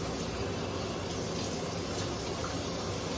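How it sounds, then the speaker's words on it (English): Water runs from a tap while shaving soap is rinsed off, a steady, close, even rush of flowing water with no speech. "Go ahead and rinse off."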